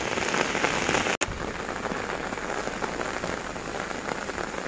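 Heavy rain pours steadily on an outdoor Thai market where vendors sell meat, a dense continuous hiss with one brief dropout, with no talking.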